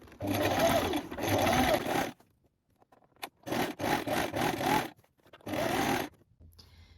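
Several separate bursts of a sewing machine stitching a second gathering line on a dress, each run lasting about a second, with quiet gaps between them while the fabric is repositioned.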